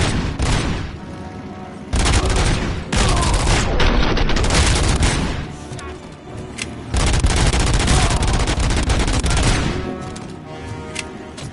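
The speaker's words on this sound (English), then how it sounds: "Fuck this fucking shotgun" Repeated heavy shotgun blasts and booming impacts in Robocop: Rogue City, loud and close, coming in several long clusters of rapid fire separated by brief lulls.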